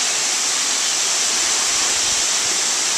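A powerful waterfall at a wildlife sanctuary, heard from close up as a loud, steady, dense roar of crashing water that stays constant throughout, with no voices.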